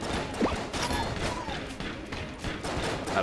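Rapid bursts of gunfire from the twin-stick shooter game Enter the Gungeon, a dense, continuous barrage of small shots running throughout with no talking over it.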